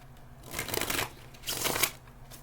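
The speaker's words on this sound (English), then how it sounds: "One more shuffle." Tarot cards are shuffled in two quick riffling bursts, crisp papery flutters close to the mic with a short pause between them.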